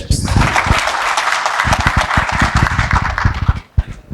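An audience bursts into loud, close applause, a dense run of quick overlapping claps that swells and then trails off into a few scattered claps.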